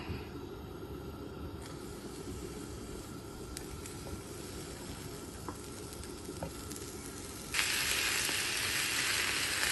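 Tomatoes sizzle in a dry frying pan with no oil or water, a steady close hiss that jumps noticeably louder near the end.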